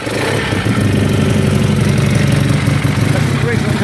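A 1950 Sunbeam S7 De Luxe 500cc motorcycle with its original carburettor and choke on, turning over and trying to catch, a loud, steady, rough churning engine noise close by.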